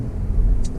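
A car passes close by with a low, steady engine rumble for under a second, with no voices.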